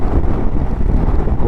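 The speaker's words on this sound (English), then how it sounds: "What a wind blast" Strong wind blast buffets the microphone during a monsoon motorcycle ride on a Royal Enfield Himalayan 450, a loud, steady roar of low rumbling gusts throughout, with no voices.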